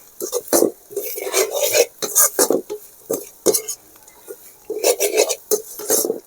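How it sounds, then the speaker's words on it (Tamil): Chilli powder sautéing in a pan for bottle gourd rasam, a spoon stirring and scraping the metal repeatedly in uneven bursts with a faint sizzle, close and fairly loud, with no talking. "இதையும் பச்சை வாசனை போகிற அளவுக்கு நல்லா வதக்கிக்கணும்."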